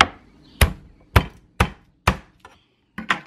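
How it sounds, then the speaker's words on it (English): A knife chops garlic on a cutting board in a home kitchen, six sharp, evenly spaced thuds, close and clear with quiet gaps between strikes. "I'm cutting up some garlic here."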